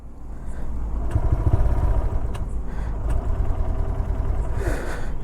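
A 2026 TVS Raider motorcycle engine runs close by with a continuous, fairly loud putter that swells slightly partway through, alongside faint background noises.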